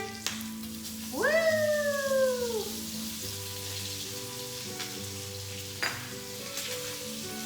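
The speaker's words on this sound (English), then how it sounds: "And I'm moving the fish so it moves with the butter." Sea bass sears in butter in a hot pan with a continuous close sizzle and crackle, and a cat's meow rises and falls over the frying for a moment.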